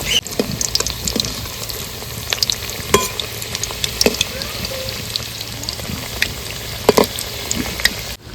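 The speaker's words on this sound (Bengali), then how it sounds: "তেল গরম হয়ে গেছে, তো মাছ যেগুলো বানানো হয়ে গেছে আমি ভাজতে থাকি" Prepared fish pieces fry in hot oil with a close, bubbling sizzle, broken by scattered pops and small crackles, and no talking.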